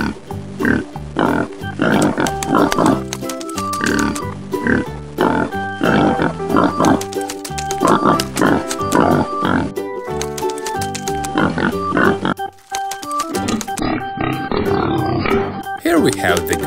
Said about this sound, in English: Here are some pig.